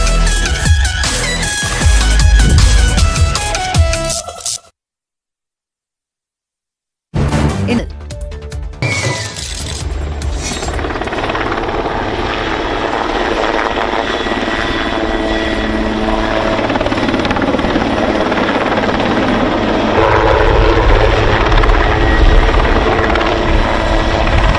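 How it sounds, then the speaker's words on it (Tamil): Military helicopter rotors thud and drone loudly during stunt flying at a Pretoria air show, cut by a sudden silence before the steady roar resumes over a noisy, music-like backdrop. "ஹெலிகாப்டர் தள்ளாடும் இந்த காட்சிகள் மோசமான வானிலையால் ஏற்பட்டது அல்ல, ராணுவ வீரரின் சாகசத்தால் நிகழ்ந்தது"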